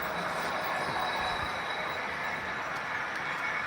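A model coal train runs along layout track on the UPRR Evanston Sub layout, giving a steady, close rolling rumble with faint wheel squeal throughout.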